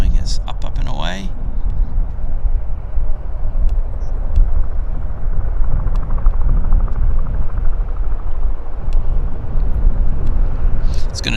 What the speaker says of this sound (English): there's our Boeing. Is up and away.